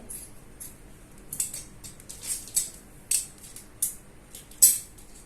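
Scissors snip through double-folded fabric for a designer baby frock, about six crisp, quiet cuts at irregular intervals, each a short bright crunch over a near-silent room.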